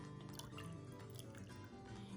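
A tablespoon of vanilla extract trickles into a flan mixture of condensed milk, a faint, brief liquid dribble and drip heard close by with no talking.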